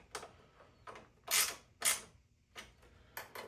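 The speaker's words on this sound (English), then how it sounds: "Now grab the ratchet and finish the install." A ratchet wrench tightens a bolt at the end of a backend install, making several short, crisp clicking bursts in an uneven rhythm, close and fairly quiet, with no talking.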